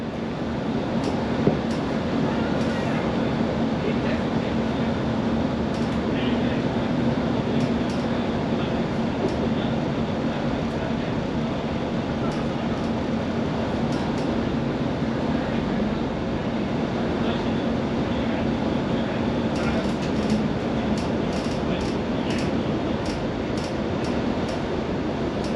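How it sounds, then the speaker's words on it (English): A Great Western Railway shuttle train runs toward Greenford with a steady rolling rumble and a low hum. Faint clicks and rattles sound throughout, and the level stays even for the whole stretch. "This is a Great Western Railway service to Greenford."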